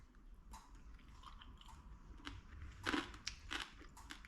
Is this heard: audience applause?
no